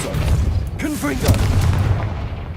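A Confringo blasting-spell explosion in Hogwarts Legacy lands as a short, deep boom under a voice, followed by a brief rumbling tail.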